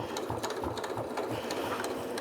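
A Janome S7 sewing machine top stitches a fabric face mask closed, its motor running as a steady, close, rapid mechanical hum with a fast rhythmic needle patter and no voices.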